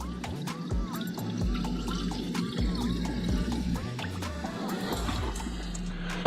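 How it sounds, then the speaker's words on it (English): Water drains and trickles out of the cooling system of a Triumph Daytona 675 after flushing. The splashing is steady and close, with repeated drips and gurgles throughout. "So now that we've flushed it a few times, we've got some pretty clear water coming out."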